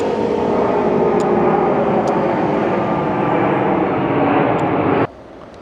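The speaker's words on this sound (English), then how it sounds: "Large plane going over." A large airplane roars steadily overhead, a broad loud rumble with faint ticking clicks, before the sound drops away suddenly.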